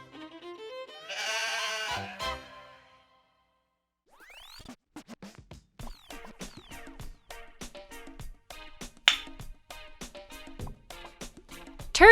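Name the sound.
goat bleating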